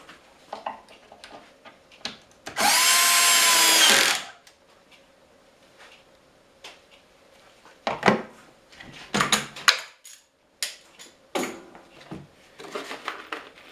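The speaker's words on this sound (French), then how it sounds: "Et là, c'est le plaisir du vissage." A power drill drives screws into a particle board panel while a cabinet carcass is assembled, with one long loud steady whir and several shorter bursts and clicks spread across the clip, close by.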